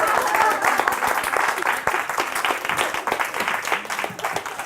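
An audience applauds with dense, steady clapping that slowly thins out toward the end.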